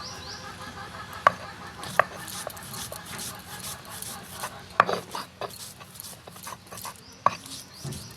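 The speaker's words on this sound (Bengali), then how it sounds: "এখন এগুলো বেটে নিব শিলনোড়ায়।" Soaked chickpea dal being ground by hand on a stone grinding slab with a stone muller, a steady scraping and rubbing texture broken by a few sharp knocks of stone on stone, close and moderately quiet.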